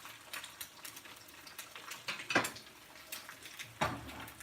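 Lamb liver and onions cooking in a pan with soy sauce, a faint soft sizzle broken by a few sharper clinks and scrapes of a utensil stirring against the pan.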